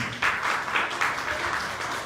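Church congregation applauding, a short wash of clapping with a few swells, moderately quiet and slightly distant.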